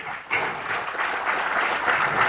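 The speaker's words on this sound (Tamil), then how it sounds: "டெரிக்கு நல்லா கரகோஷம் கொடுங்க." Audience applause welcoming drummer Derick onto the stage at the Akila Mudhalam Vaguppu audio launch, a steady, dense wash of clapping that swells after a brief start and holds loud throughout.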